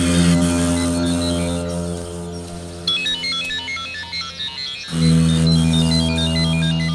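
A mobile phone ringtone plays in a dubbed Hindi thriller film scene, a repeating electronic melody that sounds loud and close, continuing over a dramatic musical backdrop with no talking.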